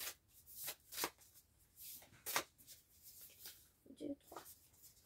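Tarot cards are shuffled and drawn in quiet, separate riffling bursts, soft and close, with a voice speaking softly between them.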